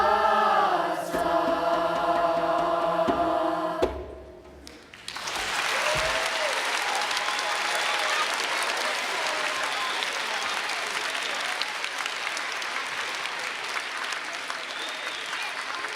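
An audience in a hall bursts into loud, sustained clapping for an 8th grade school choir at a choral festival, following a sung choral passage; the applause stays dense and steady to the end.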